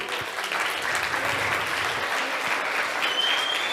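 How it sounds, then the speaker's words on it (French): Steady audience applause in a hall, dense clapping at even loudness for a few seconds, with no one talking over it. "Je vous demande de l'applaudir"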